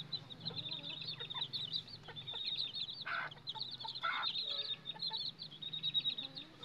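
A Mestiza hen with her two-week-old chicks clucks softly nearby while the chicks peep in high, rapid bursts, a faint, busy mix of low clucks and thin chirps.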